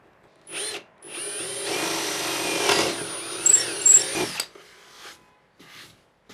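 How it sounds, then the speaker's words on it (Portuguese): Power drill boring through the corners of a window cutout in a folding workshop shelf, running in a couple of loud sustained bursts with a brief pause between, alone and fairly close. "Furo os cantos do recorte e uso a serra tico-tico para remover a maior parte."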